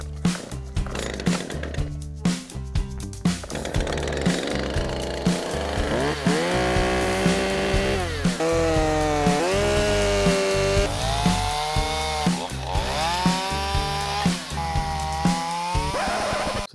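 A chainsaw revs and bogs repeatedly as it cuts firewood logs to length on a Norwegian farm, its whining pitch sliding up and down through each loud, close cut, with short gaps between cuts.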